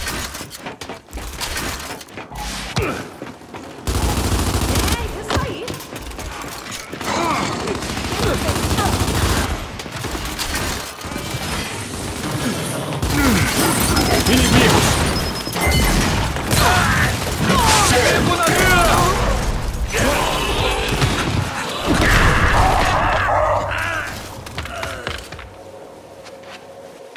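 Loud, dense gunfire from the video game Gears 5, bursts of shots, impacts and shattering effects running almost without pause, with voices talking through parts of the action.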